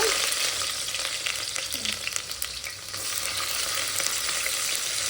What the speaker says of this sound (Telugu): ఆనియన్స్ పచ్చిమిర్చి అయితే వేసేస్తాను ఇది మంచిగా ఫ్రై అయిపోయినాక